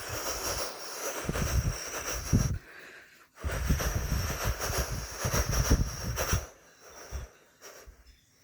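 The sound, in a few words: mouth imitation of a train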